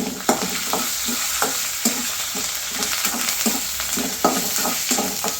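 Curry leaves and red chillies frying in hot oil for a pepper and jeera sambar, a close, steady sizzle with crackles and occasional stirring scrapes.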